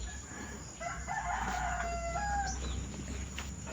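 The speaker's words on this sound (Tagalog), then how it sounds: "Ah, akala mo manok? Eh, chicken nga yan." A rooster crows once in a drawn-out, wavering call at moderate distance, set against a faint low hum.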